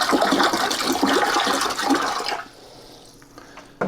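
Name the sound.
water being poured into a brining bucket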